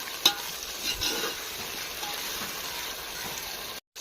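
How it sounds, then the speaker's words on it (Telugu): Chopped tomatoes with salt sizzle steadily in a pan for a chicken masala curry, with occasional scrapes and knocks of stirring, close and moderately loud. "టమోటాలు వేసిన తర్వాత త్వరగా మగ్గాలంటే కొంచెము సాల్ట్ వేసుకోవాలి చూడండి సాల్ట్ వేసుకొని కాస్త మనం మగ్గనిద్దాం"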